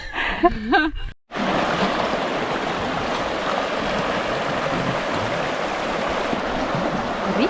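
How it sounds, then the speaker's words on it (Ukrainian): Steady rushing water of the Tereza river flowing fills the scene, loud and close, after a brief muffled moment at the start. "річка Тереза."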